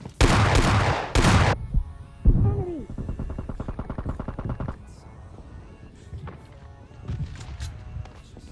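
Gunfire in the video game PUBG Lite, including an S12K shotgun, opens with loud blasts, then a rapid mechanical rattle of automatic fire and scattered distant shots in a noisy battle mix.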